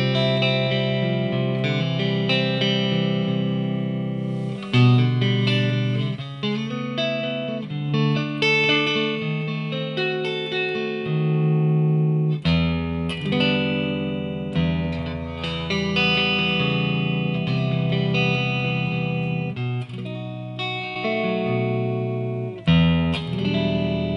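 Cort MBC-1 Red Sparkle Matthew Bellamy signature bass played on its front pickup through an amplifier, with effects-coloured, slightly gritty riffs and sustained notes running continuously and loudly, no voices.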